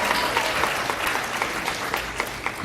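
An audience at a university UX industry night applauds and cheers: steady, close clapping from a sizable crowd, with scattered whoops and a few voices mixed in.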